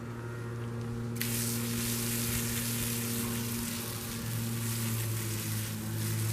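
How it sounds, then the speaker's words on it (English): Garden pump sprayer misting homemade vinegar and salt weed killer onto a weed: a steady, broad hiss starts after about a second and keeps going over a low hum. "for speed we're going to use our trusty sprayer"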